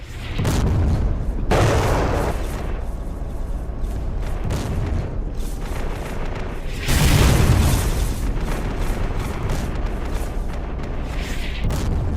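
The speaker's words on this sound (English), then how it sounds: "The ABV again moves forward, fires its second Miklik, and begins plowing the lane." A mine-clearing line charge detonates in the Battlefield 2 Project Reality game, sending out heavy, close booms with long rumbling tails that surge twice over constant engine and battlefield noise.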